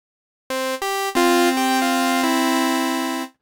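Two sawtooth wavetable oscillators in a Massive X software synth play a series of bright, buzzy sustained notes without detune, cleanly articulated and alone, ending in a held tone.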